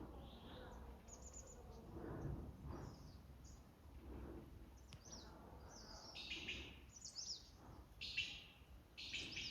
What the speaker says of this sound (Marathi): आजूबाजूला खूप सारे बर्ड्सचे आवाज येतात